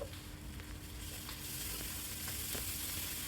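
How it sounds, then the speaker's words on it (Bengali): Spices frying in a pan for a coral fish curry give a steady, soft sizzle and crackle, with faint scraping stirs, close and alone without talk. "এই যে মাছ মাছের জন্য মশলাটা দিয়েছিলাম এই মশলাটা ভাজা ভাজা হয়ে গেলে"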